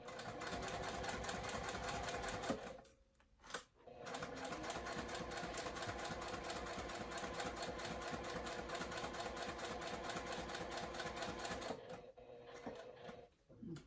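A sewing machine stitches in long, steady runs, briefly pausing near the start with a short burst as the needle is set down to pivot, then continuing evenly before easing off and starting again.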